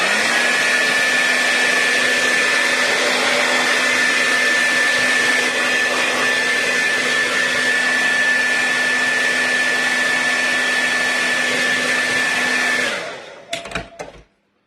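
A hair dryer blows steadily and loudly on a paper stencil craft piece, a continuous whirring roar with a faint whine that runs unbroken before switching off with a few clicks.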